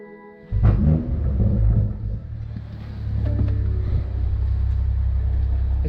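A BMW G20 M340 with a muffler delete starts up with a sharp crank and a loud flare, then drops back and settles into a deep, steady idle rumble heard close by.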